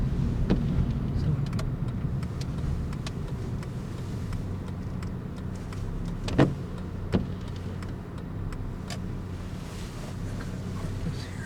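A car engine rumbles steadily at close range, a low continuous drone with a couple of sharp clicks partway through and no clear change in pace.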